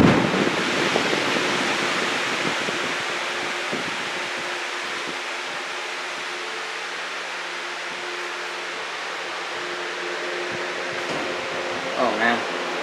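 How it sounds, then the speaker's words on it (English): A Lasko Cool Colors box fan running on its third speed gives a loud, constant rushing whoosh of air that stays steady for the whole stretch. "Alright, here's the third speed. This is where it gets pretty loud."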